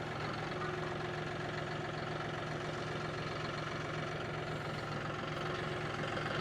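A farm tractor engine runs at a steady idle, a constant low rumble with a faint knocking texture, unbroken throughout and heard from moderately close.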